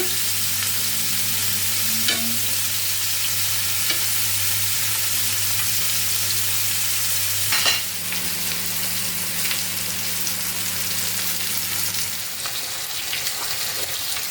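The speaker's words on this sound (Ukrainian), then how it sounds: "болгарський перчик з цибулькою. Хай прожарюється." Bell pepper and onion fry in a pan with a steady, close sizzle, broken by a few scraping stirs and a low hum underneath.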